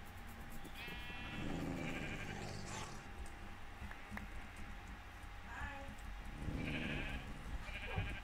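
Sheep bleating in Minecraft, a few separate bleats spaced apart over a low continuous game background, fairly quiet.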